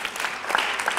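Applause from an audience at a French talk about new learning spaces, a dense, continuous patter of clapping for about a second.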